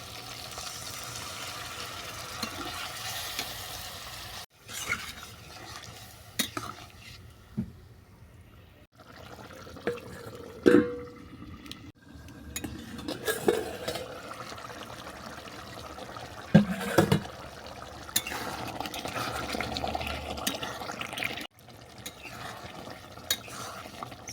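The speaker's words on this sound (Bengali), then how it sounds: "এবার আমি উষ্ণ গরম জল দিয়ে দেবো" Warm water poured into a methi chicken curry in a cooking pan after the chicken has been browned, giving a trickling, splashing pour with stirring clatter. It comes in uneven bursts, close and moderately quiet.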